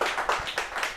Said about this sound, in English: we have a round of applause here live